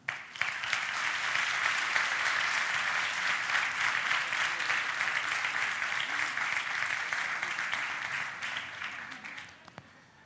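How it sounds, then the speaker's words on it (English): An audience at an event celebrating Pakistani women breaks into sustained applause, dense clapping rising quickly and holding steady before tapering off at the end. "So please give a big round of applause to the Pakistani woman."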